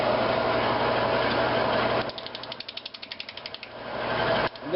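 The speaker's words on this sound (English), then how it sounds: "I'm going to start out with my 5/8 bowl gouge, just to try to auger out a lot of this material" A 5/8 bowl gouge roughs out a green wood bowl on a lathe, giving a loud continuous grinding cut with a rapid rhythmic chatter in the middle before the heavy cutting resumes.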